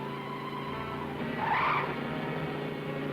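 Tires of a runaway nitro truck squeal in a single rising skid over a steady engine rumble, loud and close, from a 1943 drama film about truck drivers.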